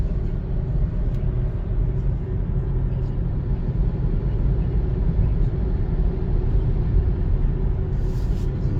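A white 2018 BMW X1 driving in comfort mode, with a steady low engine and road rumble that holds evenly throughout from inside the cabin, with no talk over it.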